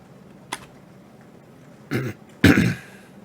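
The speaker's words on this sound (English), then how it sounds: "Sorry about all the coughing and stuff in this video." A person coughs during an online Magic: The Gathering Modern league game: one short sharp cough, then two louder, harsher throat-clearing coughs close to the microphone, with no speech.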